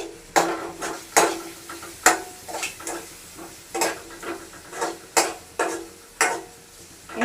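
A spoon scrapes and knocks rhythmically against a pan while sliced onions are stirred with chili powder and spice masala, about a dozen distinct clanks over a soft sizzle, close and clear with no talking.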